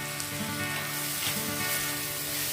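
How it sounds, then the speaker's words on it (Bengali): Chopped tomato with turmeric and Kashmiri chilli powder frying for dal fry, giving a steady, close, loud sizzle with faint stirring throughout and no talk. "আবারও সমস্ত কিছু ভালো করে মিশিয়ে ভেজে নিচ্ছি।"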